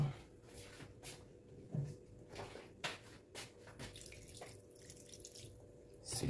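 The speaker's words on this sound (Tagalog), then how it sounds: "Dagdagan na po natin ng tubig." Water running and splashing into a pot of chicken tinola soup, a soft continuous pour with intermittent clinks and shuffling nearby.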